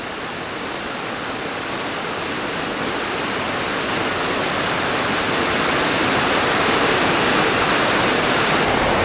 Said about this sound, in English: I actually see 6 separate waterfalls here